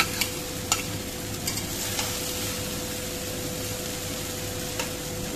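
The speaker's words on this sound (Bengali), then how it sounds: "সাথে ফুলকপি আর আলু ভাজিগুলো দিয়ে দিচ্ছি।" Fried cauliflower and potato added to a hot pan, a steady loud sizzle with a few sharp clicks of stirring near the start, no talking.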